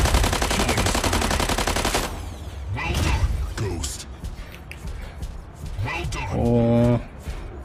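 Rapid bursts of robot weapon fire in the mech battle game Mech Arena, a dense loud stream of shots at first, then scattered impacts and thuds, with players talking over it.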